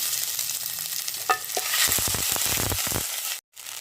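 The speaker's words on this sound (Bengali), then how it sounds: "কড়ায় অল্প পরিমাণে তেল এবার এর মধ্যে দিয়ে দেবো এই আদা লঙ্কা বাটাটা" Ginger-chili paste hits a little oil in a hot wok, giving a steady sizzle with a few scraping stirs of the spatula, close and alone.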